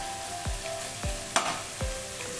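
Tomatoes frying in oil for a fish gravy, a steady sizzle with three or four low spoon-against-pan thumps spaced about half a second apart and one sharp scrape, no talk.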